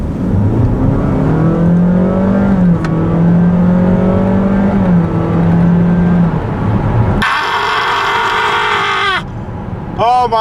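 A 2022 Honda HR-V hybrid accelerating hard in sport mode, its engine droning at a steady, slowly rising pitch from inside the cabin, then a sudden loud switch to a higher, harsher whine with a brief shift near the end.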